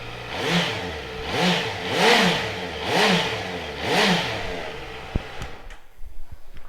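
A 2016 Honda CBR650F four-cylinder motorcycle starts up and revs close by, giving five rising-and-falling throttle blips in steady rhythm before settling into a lumpy idle with some clatter.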